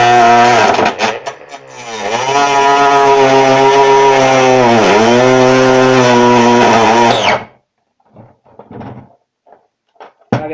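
A cordless power tool fitted with a thin cutting disc whines loudly and steadily as it cuts at its higher speed setting, its pitch wavering under load, then cuts off abruptly, leaving a few faint clicks and handling sounds.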